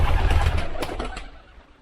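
Pigeons cooing at carved-out cave roosts with indentations for nesting, a short burst of soft, close, throaty cooing that fades out within two seconds.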